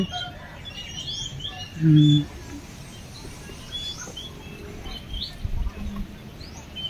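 Small birds chirp and tweet in short bursts at their nest, a mated pair, against a quiet outdoor background, with one louder call near the middle and faint rustling later.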